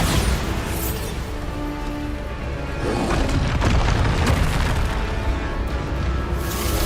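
Bombarda spell blasts in Hogwarts Legacy, heavy booming explosions rolling into one another, loud and close, with a denser thump in the middle.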